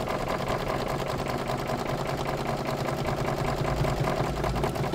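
A sewing machine hums steadily while stitching a holiday gnome tea towel, a fast, even mechanical whir that runs without pause at close range.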